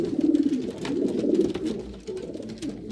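Homing pigeons coo at their nest, the sound soft and fairly close, a low rolling murmur repeating through the whole stretch with no talk over it.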